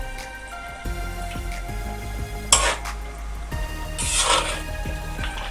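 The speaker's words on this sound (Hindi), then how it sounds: "इस ग्रेवी में अच्छी तरह मिक्स कर लें।" Fried chicken is stirred into a rich Mughlai gravy in a pot, with a spoon clinking and scraping against the pot in a few distinct strokes over a soft bubbling background.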